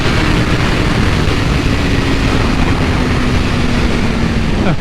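A 2022 BMW S1000R motorcycle engine pulls hard under acceleration, giving a loud, steady roar with a rising tone held across the whole stretch, close up and without speech.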